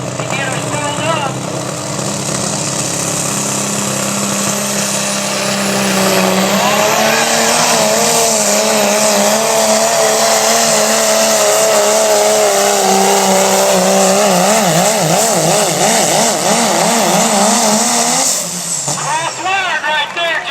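A pulling truck at a county fair truck pull in Boonville, Missouri roars loudly and continuously, its engine climbing and spooling up for about eighteen seconds before cutting off, while announcers talk over it.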